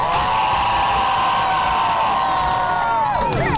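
A crowd at a medieval faire jousting show cheers and whoops loudly, sustained shouting and hollering from many voices that carries through the whole stretch before trailing off at the end.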